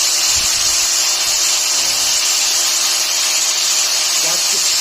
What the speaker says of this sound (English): So I'm just whittling that down, and again I'm using a grinder